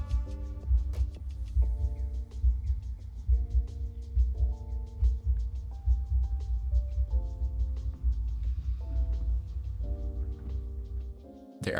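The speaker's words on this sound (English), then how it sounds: "the room that senses your heartbeat and carries" A museum exhibit room plays back visitors' heartbeat sounds, heard as a steady low throbbing pulse under layered sustained tonal chords shifting in pitch, continuous and fairly loud throughout.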